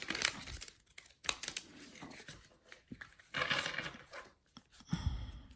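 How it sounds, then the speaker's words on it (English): Crisp riffling and flicking of stiff new tarot cards in short bursts, with papery snaps and rustles, close up and fairly quiet. "let's see if we can shuffle it this way."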